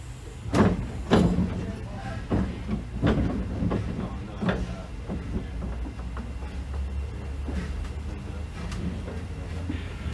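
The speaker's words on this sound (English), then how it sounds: "keeping your hands, arms, feet, and legs inside the train" A Disneyland ride train rumbles along with low steady noise and a few sharp clanks and thumps early on, people murmuring faintly in the background.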